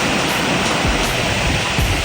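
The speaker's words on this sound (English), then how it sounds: "Just listen to the sound of this massive waterfall." A massive waterfall in Iceland roars in winter as a loud, steady wall of broadband rushing water that fills the whole clip with no voices.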